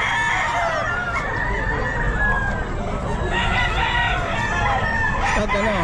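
At a pet market in Bocaue, a white kelso stag rooster crows amid clucking fowl and a dense, noisy market background with people talking.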